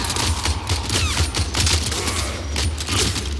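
Rapid pistol fire in the Warframe video game, a dense string of sharp gunshots over a steady low rumble of game background sound, loud and continuous with no talking.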